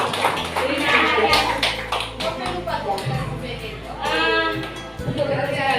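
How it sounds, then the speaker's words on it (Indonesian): A small group of people, likely teachers at a school workshop, claps for a woman in a short scattered burst of hand claps with voices talking over and around it. "Tepuk tangan dulu untuk Ibu Dinawati."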